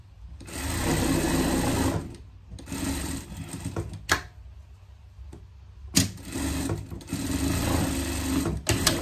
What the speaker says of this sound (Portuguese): Vamos prespontar aqui a nossa peça.